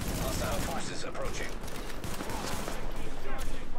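Pistol gunfire and other shots crackle through a firefight in The Division video game, with dense overlapping reports and rattling noise at a steady high level, mixed under a talking voice.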